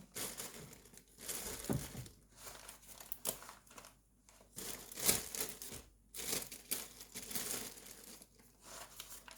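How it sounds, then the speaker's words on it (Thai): Paper and a plastic bag crinkle and rustle close up as a parcel is wrapped for long-distance shipping, in repeated bursts with short pauses between them and no talk. "ห่อใส่กระดาษเอาพี่น้อง เราก็ต้องไปใส่ถุงพลาสติกอีกทีนึง"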